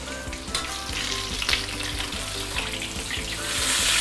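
Tofu sizzles in a hot pan of oil for a fishhead stew, a loud, steady crackling fry with dense spattering pops throughout and no talking.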